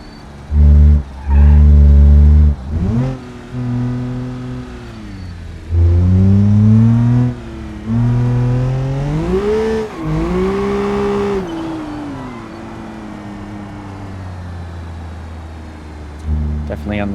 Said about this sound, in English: Car has got a lot of bass though in its exhaust here.